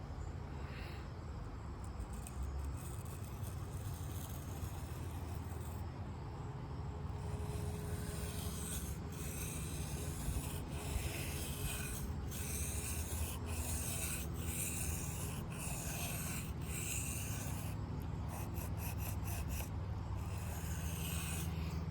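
A Kershaw Hotwire knife blade being sharpened, repeated scraping strokes of steel against a stone, steady and close, with quieter pauses between runs of strokes and no talking.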